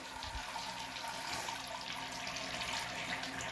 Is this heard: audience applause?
no